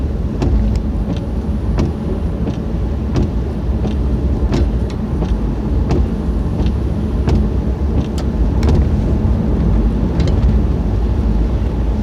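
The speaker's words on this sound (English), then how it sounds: "This is a Pontiac Vibe I'm driving." A 2004 Pontiac Vibe on the road, heard from inside as a steady, loud low rumble of engine and tires with wind noise and occasional faint ticks throughout.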